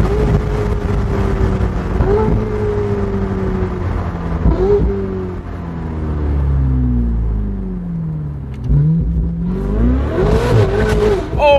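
A car spins out, its engine revving loud and close with pitch swooping up and down, dipping and surging again near the end.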